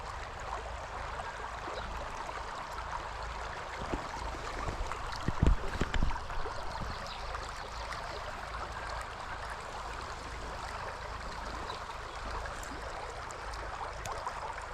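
Steady, full-bodied rush of flowing stream water at a sweetfish fishing spot, continuous and close, with a brief louder splash or knock midway and no talk.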